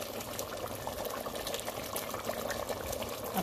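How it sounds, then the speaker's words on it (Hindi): Water splashes and gurgles into a pot of shalgam gosht, mutton cooking with turnips, a steady close pouring and bubbling wash over the full few seconds with no talk. "हम इसमें डाल दिया पानी"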